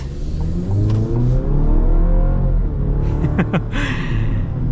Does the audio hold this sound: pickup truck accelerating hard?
yes